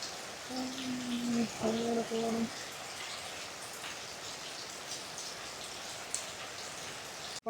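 Steady rain hisses and patters across a market in Jaffna during a storm, a dense even wash throughout, with a brief tonal melody early on and a sharp knock near the end.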